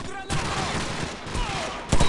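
Rapid automatic gunfire bursts loud and close in the Call of Duty 4 battle mission against ultra-nationalists, with shouted voices mixed into the combat noise.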